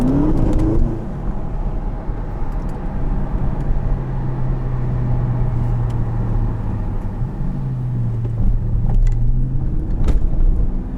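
A 680 HP Porsche Panamera Turbo S E-Hybrid Sport accelerates on the road, its engine a steady, loud droning hum with rising and shifting tones heard from inside the cabin, continuous throughout with no talking.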